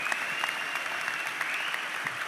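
Graduates at a law school commencement ceremony applaud, a dense wash of clapping from a large crowd, fairly distant and steady throughout.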